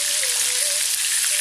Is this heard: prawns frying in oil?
yes